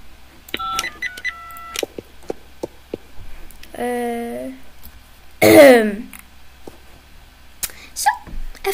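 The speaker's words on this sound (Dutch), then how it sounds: "Even hoesten." A short burst of coughing or throat clearing from one person in a horse stable, loud and close, set among scattered clicks and a brief vocalized sound, with no speech around it.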